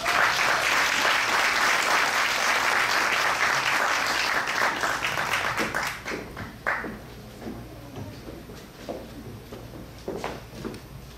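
An audience at a graduation ceremony claps steadily for an incoming speaker, a dense, loud wash of applause that thins after about six seconds into scattered individual claps and thumps.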